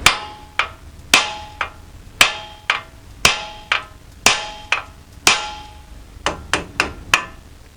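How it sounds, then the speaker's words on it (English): Hammer blows striking a steering knuckle and tie rod nut on a 2004 GMC Envoy to free the tie rod, about fifteen sharp metallic hits in irregular pairs and clusters, each ringing briefly, close and loud with no talking. "I want to hit the knuckle, and that might squeeze the knuckle enough to force it down, or I can just hit on the nut."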